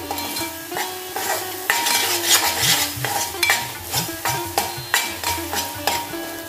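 Spices and masala are sautéed in a pan for a pavta and potato curry, with rhythmic stirring scrapes and clinks of a spoon over a soft, continuous sizzle, close and fairly loud.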